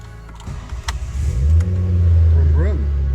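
A car engine starts and revs up, a rising rumble that settles into a steady loud idle, with people talking around it in a brake workshop.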